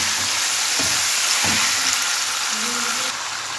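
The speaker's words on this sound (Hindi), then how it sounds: "अब हमने इनको अच्छी तरह फ्राई करना है" Chicken liver fries in a pan, giving a loud, continuous hiss and crackle of hot oil up close, with a couple of soft knocks from stirring and no talk.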